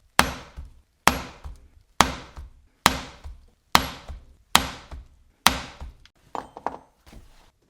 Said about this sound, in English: This is a 1/2 inch, or actually 3/8 inch weaver, half round punch, and I just use it one on top of each other to make that pinked edge.